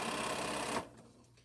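A sewing machine stitches quilt pieces at a quick, steady whir, loud and close, then cuts off abruptly after under a second, leaving a quiet room.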